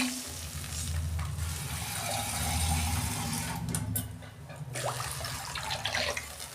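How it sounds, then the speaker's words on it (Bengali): Water poured into a wok of hot oil just used for frying a fish head, giving a hissing, bubbling splash with clinks of utensils, close and fairly quiet. "এই যে আমি ওই কড়াতেই পরিমাণ মতো জল দিচ্ছি।"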